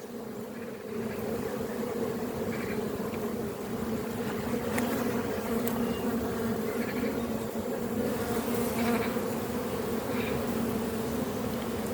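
Honeybees buzz at a hive in a dense, steady hum at close range, a constant swarm-like drone with no voices.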